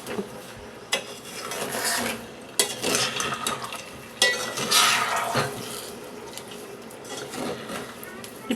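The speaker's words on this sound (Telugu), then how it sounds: "వీటిని కలుపుకుంటూ పంచదార కరగనివ్వాలి" A spoon clatters and scrapes against a pot while amla jam with melting sugar is stirred over medium heat, irregular knocks and scraping strokes recurring close up.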